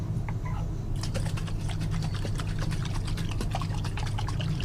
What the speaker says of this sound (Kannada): ಚೂರು ನೀರು ಹಾಕಿ ಇದರಲ್ಲಿ